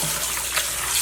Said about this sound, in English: I'm gonna just rinse it out with cold water